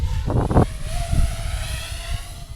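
A 5-inch FPV racing drone with X-Rotor 60A motors comes in to land, its propeller whine and motor drone steady and fairly loud with a few low bursts of wind rumble as it descends.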